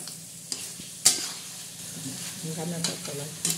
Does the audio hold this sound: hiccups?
no